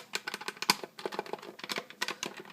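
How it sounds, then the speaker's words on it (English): Rapid plastic clicks from the buttons of a Nintendo 64 Arcade Shark arcade stick, an irregular flurry of light, close taps like quick typing, fairly quiet with no voice. "They make the little clicky noise"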